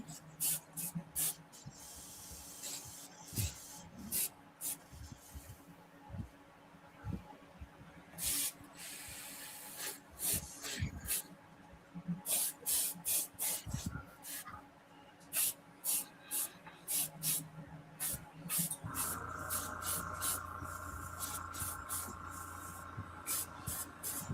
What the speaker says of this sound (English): So basically what I'm doing is I'm just airbrushing the glaze.